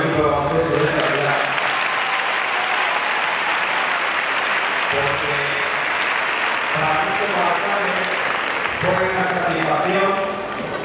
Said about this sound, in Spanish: Yo pido un aplauso para todo el equipo de baloncesto de esta ciudad.